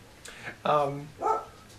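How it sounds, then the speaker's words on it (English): Dogs bark a few times nearby: three short, harmonic yaps and barks spread over under two seconds, rising clearly above a quiet background. "dogs barking, I really hate these animals, but I love them at the same time."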